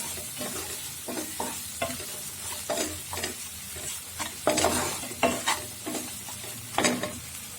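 Spices and salt are stirred in a frying pan for an okra curry made with lentils and mustard paste, with repeated scraping spoon strokes over a soft, continuous sizzle.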